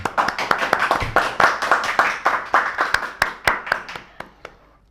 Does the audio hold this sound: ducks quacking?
no